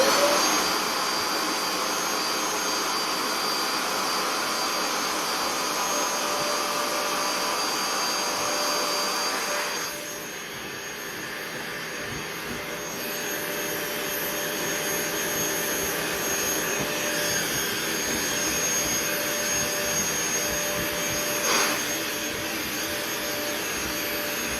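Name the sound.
Bissell Little Green Pet Pro vacuuming a couch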